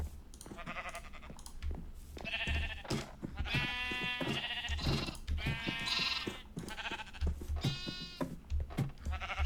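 Sheep in a video game bleat repeatedly, several drawn-out wavering calls close and loud, mixed with faint clicks and thumps of game play, no talk.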